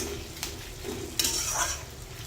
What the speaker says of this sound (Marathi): आता कांदा पण चांगला याच्यात तळून घ्यायचा आहे.